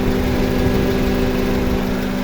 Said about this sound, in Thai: นี่เลยครับผมเครื่องยนต์เดินเรียบๆครับ ไม่มีสะดุดนะครับ